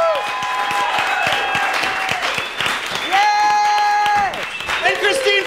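A live show audience applauds the performers, with a dense, continuous patter of clapping nearby, mixed with cheering and whooping voices rising above it.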